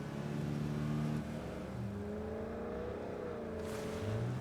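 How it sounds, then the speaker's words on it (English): Several high-pitched video game engines whine and rev continuously, pitches rising and falling like race cars, with one briefly growing louder near the end. "They sound like race cars."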